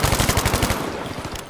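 Rapid automatic gunfire from a Thompson submachine gun in the Battlefield V video game, a fast near burst of shots that thins out and fades toward the end.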